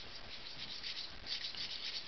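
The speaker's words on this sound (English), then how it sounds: "So just keep sanding that down." Sandpaper rubs quickly and softly against a small toy Green Lantern ring, stripping its copper-tone coating in a continuous faint scratchy hiss, close by with no voices.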